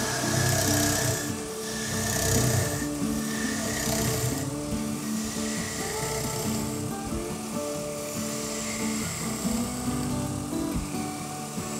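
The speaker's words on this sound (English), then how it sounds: "So carry on with your planing cuts." Skew chisel taking planing cuts on wood spinning on a lathe, a continuous whirring, hissing cut with some scraping texture over the steady hum of the turning machine.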